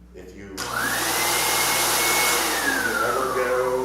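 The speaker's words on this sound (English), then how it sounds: "I call it a puppy dryer." A warm-air pet dryer of the kind dog groomers use, here drying parts after ultrasonic cleaning, switches on abruptly and blows with a loud steady whooshing roar and a slowly shifting whine, close to the mic.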